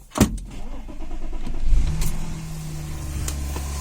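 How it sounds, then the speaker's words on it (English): A 2010 Audi S4 3.0 V6 supercharged engine cranks and catches from cold after a sharp click, settling into a steady, close idle hum with no talking. "So in the car now, just going to start the car up."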